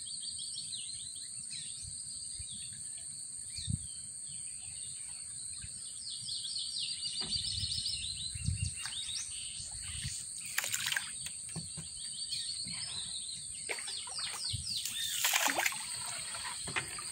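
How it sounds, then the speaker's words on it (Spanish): Small birds called huitillos sing among green trees beside a creek. Their high chirps and trills repeat steadily over a constant insect drone and a low rush of water, with an occasional louder burst. No one speaks. "Se oye el canto de los pajaritos."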